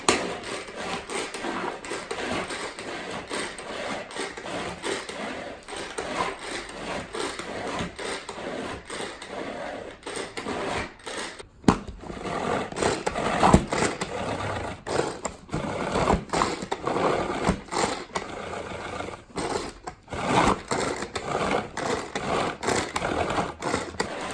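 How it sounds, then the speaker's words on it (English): A handheld shredder gadget finely chops parsley and cilantro with a continuous rapid rattling and grinding, close and steady, broken by a few brief pauses. "We're gonna go ahead and finely shred it in this handy dandy shredder gadget."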